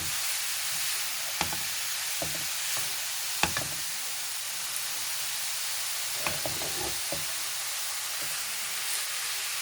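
Carrots roasting in ghee in a pan, a steady soft sizzle and hiss with occasional sharper clicks and stirring scrapes, close by, no voices.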